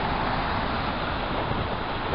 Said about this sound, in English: It's a little bit windy sometimes.